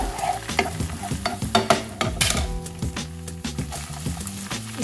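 Salted yellow bean fried rice with vegetables being stir-fried in a pan: repeated close scrapes and clacks of a spatula over a soft sizzle, in irregular bursts with no talking.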